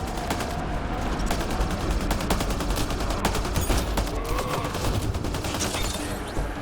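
Rapid bursts of automatic gunfire and overlapping shots in the science-fiction shooter Mass Effect: Andromeda, a loud, dense fusillade running continuously throughout with no speech.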